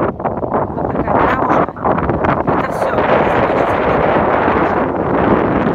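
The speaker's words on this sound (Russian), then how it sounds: "очень сильный ветер" Strong wind buffets the microphone in an open outdoor spot under sun, producing loud, continuous low rumbling gusts throughout with a brief dip in intensity early on.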